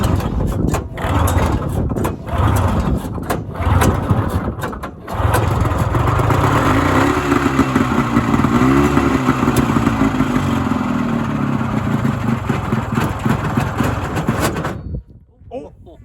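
A vintage barn-find snowmobile engine runs loud and steady after a rope pull start, a rough, rattly drone that holds for most of the stretch before cutting off abruptly near the end, with people talking over it.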